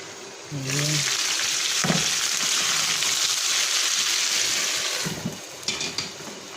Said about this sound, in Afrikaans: Dit gaan ten minste 'n halfuur tot 40 minute gaan dit so braai.